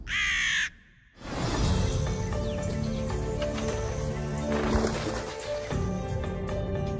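One crow gives a sharp caw at the start, then a dense, steady layer of other sounds continues at moderate level for several seconds, with no talk.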